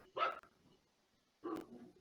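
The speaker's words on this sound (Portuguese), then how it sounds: "eu tô escutando um cachorro latindo" A dog barks twice, about a second apart, faint and distant, picked up over an online class call with no talk during the barks.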